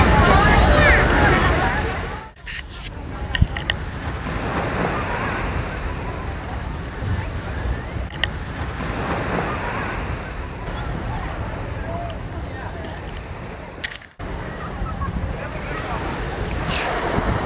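Waves wash ashore on White Beach, Boracay, under heavy wind buffeting the microphone, a continuous rushing surf with a few sharp bumps and faint voices in the background.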